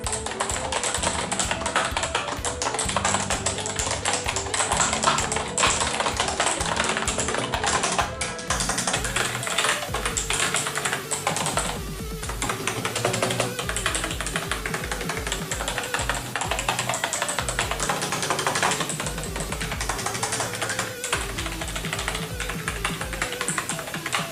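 Fast continuous typing on a Nubwo NK45 mechanical keyboard, dense rapid clacking of keys up close and loud, running without pause and with no speech.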